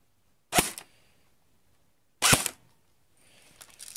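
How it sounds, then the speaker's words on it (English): Two sharp semi-automatic shots from a gold CYMA G36C airsoft electric gun during a velocity check ring out alone, well spaced, each a crisp loud snap with a short decay, followed by faint rustling handling noise. "Okay, I'm going to do an FPS check now on the semi-automatic."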